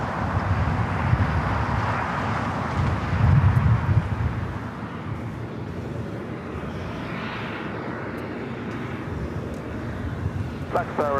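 United airliner taking off from runway 25 right at LAX: a broad, steady jet engine roar with wind buffeting, holding loud and continuous throughout, with a brief radio blip near the end.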